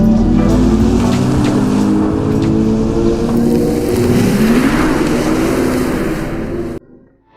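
A 2024 Hyundai IONIQ 6 car drives past with a loud, continuous driving drone whose pitch sweeps up and down, then the sound cuts off abruptly near the end.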